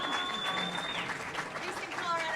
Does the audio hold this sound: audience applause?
yes